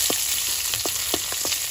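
Mustard seeds and curry leaves sizzle in hot coconut oil, with a steady frying hiss and sharp seed pops coming a few times a second, close and fairly loud, with no voices.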